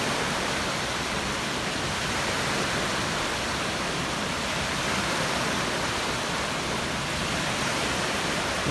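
Waves churning in an outdoor wave pool, a steady broadband wash of water rolling and breaking without pause, loud and close throughout.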